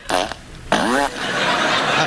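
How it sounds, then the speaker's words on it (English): An old-school digital fart machine plays two short, buzzy, synthetic blasts with sweeping pitch, loud and close, followed by a lingering noisy tail. "This is a really bad old school fart machine. This is how digital and dumb it sounds"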